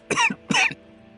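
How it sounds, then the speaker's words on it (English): A character in The Walking Dead: Saints and Sinners VR game gives two harsh, close coughs in quick succession, each a rasping burst followed by a short throaty catch. "coughing is so annoying"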